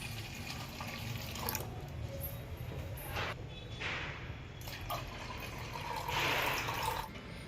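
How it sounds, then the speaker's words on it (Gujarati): Water runs and trickles steadily into gram flour in a container, about 500 ml, with a few brighter splashy bursts of pouring along the way and no talking. "પાંચસો એમએલ આપણે પાણી નાખી દઈએ છીએ"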